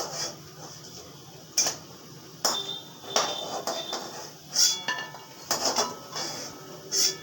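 Fried lentil fritters are lifted out of a pan one at a time, producing a series of sharp metallic clinks and scrapes from a utensil against the pan, spaced irregularly over a quiet background.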